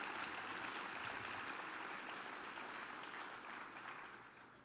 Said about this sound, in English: yes, applaud that, please, go ahead